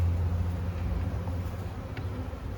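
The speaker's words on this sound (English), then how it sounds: "There are a few bees here in the top" Honey bees hum steadily inside a Layens hive nuc, a low continuous drone close by with no talking over it.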